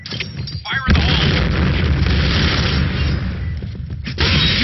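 A heavy, booming grenade explosion in the video game Point Blank rolls out loud and sustained, followed by a second boom near the end, with game voice callouts mixed in.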